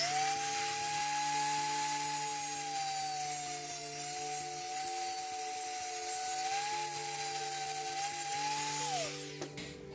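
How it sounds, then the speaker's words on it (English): A rotary cutting tool grinds material off a part of a vintage Minolta Sony 500mm autofocus lens, a steady high-pitched whine with a grinding hiss that holds for about nine seconds before spinning down and stopping. "I'm going to go ahead and use my rotary cutting tool to take away some of the material on the end"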